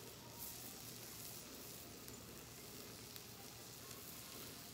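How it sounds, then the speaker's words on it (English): Ribeye steaks sizzle on a hot hibachi grill, a faint but steady crackling hiss with small pops, alone without talk. "So now we're gonna get our steaks on."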